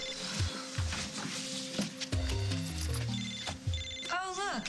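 A telephone rings indoors in a soap-opera scene and the call goes to voicemail, with a warbling ring tone near the end under conversation and background music.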